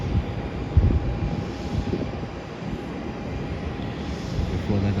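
An Airbus A380 airliner at Melbourne airport, having flown in from LAX, gives off a steady, fairly distant roar of jet engines with a faint whine on top. The drone holds broad and even for the whole stretch with no talk over it.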